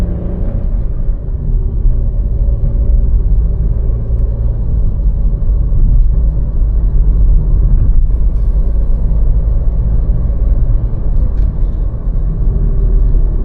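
Volkswagen Taigun 1.0 TSI turbo petrol engine accelerating, heard from inside the car as a steady, loud low drone and hum that stays constant, with no talking.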